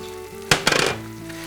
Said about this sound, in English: these apples have been cooking for about 5 minutes